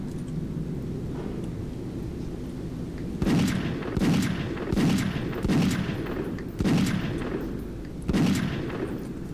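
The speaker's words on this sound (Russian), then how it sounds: "Пистолетом можно это стрельнуть в ручку и выбить ее" Pistol gunshots in the horror video game Shadows Chapter 2, about six loud sharp shots at uneven intervals over a steady low background hum.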